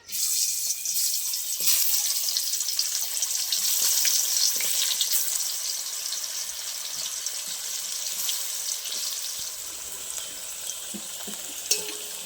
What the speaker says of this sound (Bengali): তেল গরম হয়ে গেছে এবার আলু দিয়ে দেবো